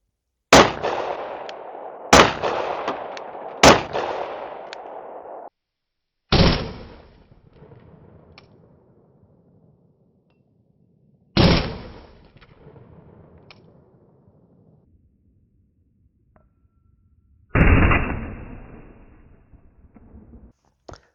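A Glock 43X pistol fires five loud, sharp shots: three in quick succession, then single shots spaced several seconds apart, each followed by a short decaying echo.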